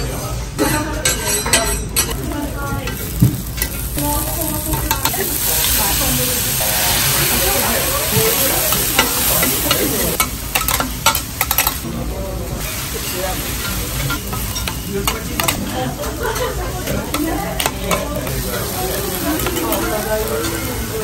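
Garlic wrapped in foil sizzles and hisses steadily on an indoor grill, a dense crackling bed with occasional clinks, running continuously under several people chatting nearby.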